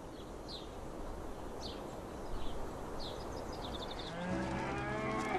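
A water buffalo in Hong Kong gives a low, drawn-out moo near the end, rising over a steady outdoor wash of wind, with a few faint bird chirps scattered earlier.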